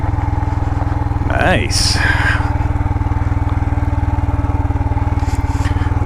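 A 2022 Royal Enfield Himalayan single-cylinder motorcycle rides in first gear on a desert trail in southwest Utah. Its steady, close engine drone and exhaust pulse run throughout, with wind noise, and a rider speaks briefly.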